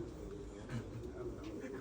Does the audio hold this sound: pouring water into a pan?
no